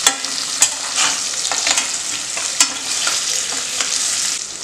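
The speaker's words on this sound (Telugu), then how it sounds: "ఇప్పుడు ఇదంతా ఒకసారి మనం బాగా కలిపేసుకుందాం." Potatoes with turmeric and chili fry in a pan, a continuous close sizzle broken by repeated scraping knocks of a spoon as they are stirred, with no voices.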